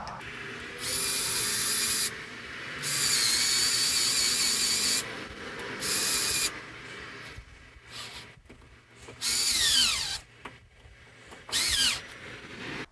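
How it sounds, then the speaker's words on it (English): A power drill drives brass or silver screws while installing a Kwikset Kevo 925 smart lock, whirring in several bursts of a few seconds each, rising and falling in pitch, with quieter gaps of handling noise between. "take screws, 2 brass screws or silver screws, whichever one fits better for you, and drill it in"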